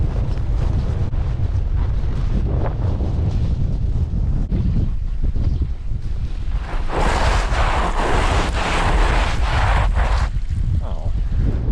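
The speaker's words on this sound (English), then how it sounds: "This wind," Strong cold wind blasting a microphone on a winter hike at Moraine Hills State Park, a constant loud roar and buffeting that swells stronger in gusts toward the end, with no clear talk.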